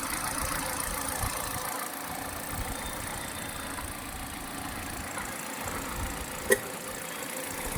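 A 2015 Hyundai Grand i10 Sportz petrol engine idles steadily with a low, even hum and faint mechanical whir, heard up close with no talking and one brief click near the end.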